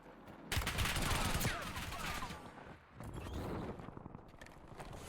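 Rapid automatic gunfire from the player's weapon in the video game Warzone, loud close bursts rattling in two stretches with a short gap between, mixed with mechanical clatter.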